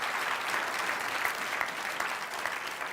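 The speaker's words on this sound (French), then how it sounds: "Est-ce qu'on peut les applaudir bien fort, vos pasteurs?" A church congregation giving warm, sustained applause for their pastors at an Easter service, a steady even wash of many hands clapping throughout.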